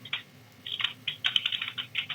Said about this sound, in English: I don't know what she's typing